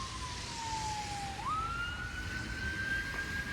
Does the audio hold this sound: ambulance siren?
yes